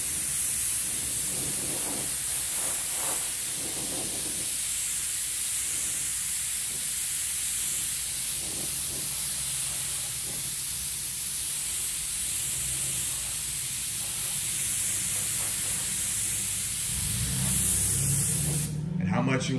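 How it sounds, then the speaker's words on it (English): A paint gun sprays intercoat clear during a galaxy-style custom paint job, giving a steady, loud airy hiss that runs almost without break, with a person talking now and then beneath it. "I'm just using the paint gun with some inner coat into it anyways"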